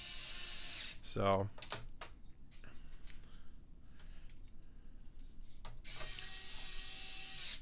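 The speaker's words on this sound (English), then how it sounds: "I'm sitting here putting all these screws in." A small electric screwdriver whirs as screws are driven into a PS5 console under repair, with short bursts near the start and end and a rising spin-up between them, while someone talks nearby.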